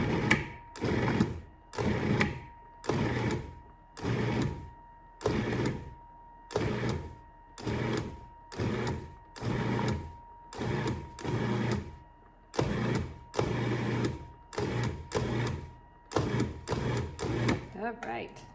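A food processor pulses spicy empanada filling toward a coarse mix in a steady series of short motor bursts with brief silent gaps, whirring loudly up close with no talking between pulses.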